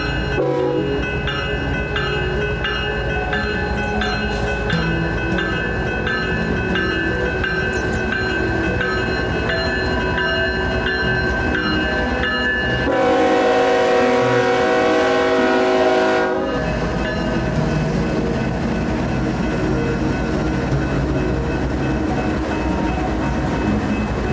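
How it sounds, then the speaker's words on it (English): A grain train pulls away from a siding with a loud, steady rumble and rolling wagon noise, broken by one sustained horn blast midway before the rumble carries on. "This grain train got a crew immediately and left as soon as I got there."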